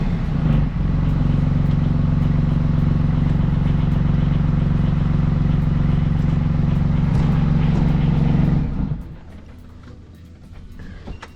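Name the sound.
engine running at first start-up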